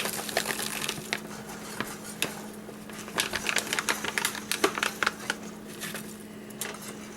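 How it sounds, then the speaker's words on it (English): Whisk rattling rapidly against a pot while mixing Travelers Stew emergency food mix, a busy stream of fast, close clicking and tapping over a faint steady hum. "and we'll whisk this in."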